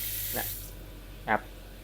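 A two-way kitchen sink faucet fed by a home water pump sprays with a steady close hiss, interrupted by two short, brighter gushes.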